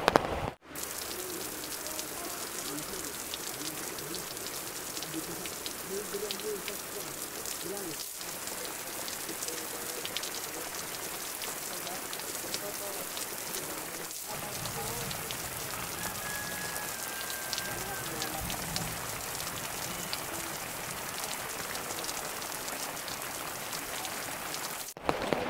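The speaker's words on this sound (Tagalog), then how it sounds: "Halika, umuulan. Pasok tayo." Steady rain falls on a house, a continuous close patter on the surface that runs evenly throughout with no talk over it.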